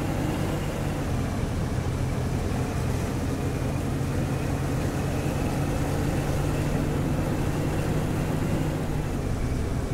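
A steady, droning engine rumble of a tank driving in the game Squad, constant and unbroken with a faint whine on top and no speech.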